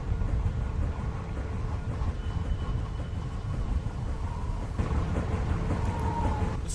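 Thunderstorm in Telltale's The Walking Dead video game: a steady, heavy low rumble with rain-like hiss throughout, swelling slightly near the end, with no voices.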